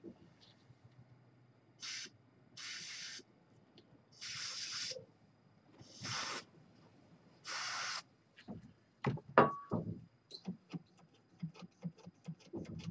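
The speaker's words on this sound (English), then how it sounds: "I'm going to spray just a little more deoxid in there." Short bursts of DeoxIT contact cleaner sprayed into a 1959 Grundig Majestic SO141Ua radio-phono console, five hissing puffs in a row followed by faint clicks and handling noises, close and without talk.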